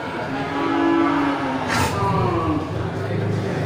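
Cattle moo at a busy livestock market where large fattening bulls are sold, their low, drawn-out calls overlapping in the foreground amid market noise and chatter from people nearby.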